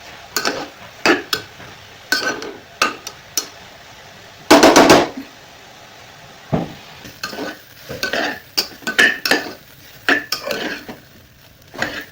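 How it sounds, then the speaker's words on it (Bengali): Intermittent clattering of a utensil scraping and stirring carrots frying in a metal pressure cooker, with a faint sizzle underneath and a louder burst midway. "আমি গাজরটা ভালো করে এই যে প্রেসার কুকারটাতেই একদম ভালো করে ভাজা করব"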